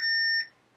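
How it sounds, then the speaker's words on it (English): A multimeter in continuity mode gives one steady, high electronic beep lasting under half a second as its probes touch, close and clean with no talk. "if we touch the probes together, we get a beep"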